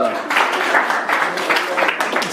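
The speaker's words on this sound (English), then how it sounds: "Please give them some extra applause." Audience applause at a stand-up comedy show, a dense steady wash of clapping from a crowd, loud and close, holding evenly without a break.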